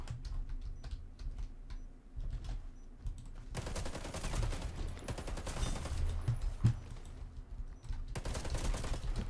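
A Hera Arms CQR rifle in the shooter game Warface fires long sustained automatic bursts, rapid and close, after a few seconds of quieter clicking, with no reload break.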